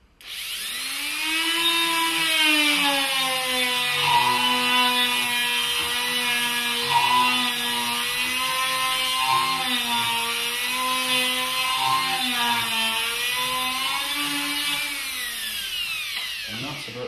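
Multi-tool fitted with a small sanding head spins very fast against a brass Spitfire airframe kit, a steady high whine that holds for about sixteen seconds with slight pitch wobble, close up, then cuts off.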